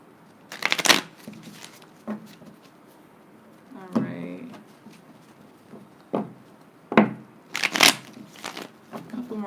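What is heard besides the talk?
shuffling tarot cards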